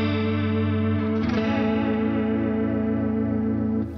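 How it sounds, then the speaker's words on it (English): Guitar chord through a NAOMI Classic analog chorus pedal with rate and depth at full, a slow, deep warbling wobble across the sustained chord as it is struck again and rings on, loud and close with no talking. "if I put both at full, you'll hear the what I call obnoxious chorus sound"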